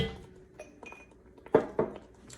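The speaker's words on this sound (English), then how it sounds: "So I'm going to take this little spatula here and get all of that delicious bouillon out of there." A small spatula scraping and clinking against a container while getting bouillon out, a few soft taps followed by two sharper knocks near the end, close and quiet with no talk.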